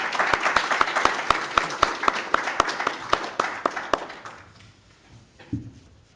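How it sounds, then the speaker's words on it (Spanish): A small academic conference audience claps in a brisk, even rhythm of distinct hand claps, which tapers off and ends near the close. "les pedimos con un aplauso, por favor, a Maribel."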